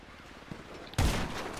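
Video game gunfire erupts as a sudden loud burst of rapid shots, right after a brief quiet stretch.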